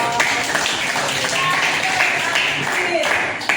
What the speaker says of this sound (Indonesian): kasih tepuk tangan untuk Jos.